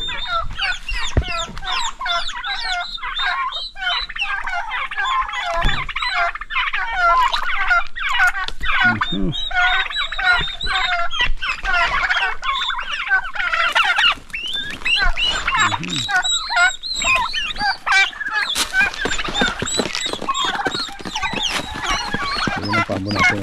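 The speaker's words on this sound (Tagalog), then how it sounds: "Yan ang pabo natin" Turkeys gobble over and over, loud and close, a dense flock chorus with clucking mixed in and no pauses.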